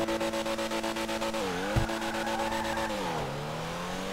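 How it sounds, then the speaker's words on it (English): A fully upgraded Pfister Comet S2 sports car in GTA Online accelerates hard, its engine droning and revving up through several gear shifts with brief dips between them, loud and steady with no talk. "Let's go check out the top speed of the completely upgraded car."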